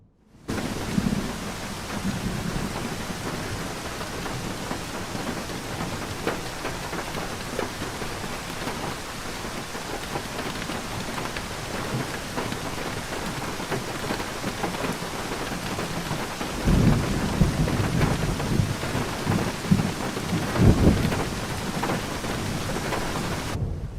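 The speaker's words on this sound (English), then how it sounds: "it is getting a little stormy in here. It looks like a storm is setting in" Steady heavy rain pours outside a window, hissing continuously, while rolling thunder rumbles low and swells louder near the end; no one speaks.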